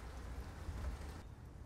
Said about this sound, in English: I think the rain is letting up